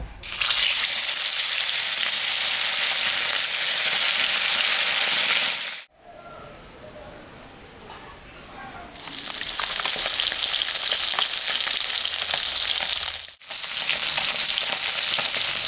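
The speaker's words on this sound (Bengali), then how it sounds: "মাছটা এখন আমি ভাজব" Kalbaush fish frying in hot oil, a loud, dense, close sizzle that drops off abruptly into a quieter stretch with faint handling, then surges back and cuts out briefly again near the end.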